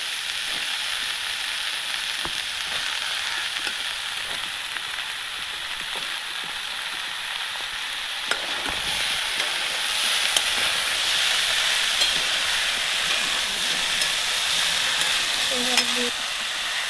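Potato and eggplant pieces fry in a pan, a steady hissing sizzle with occasional scrapes and clicks of stirring, close up and sustained, with no voice over it.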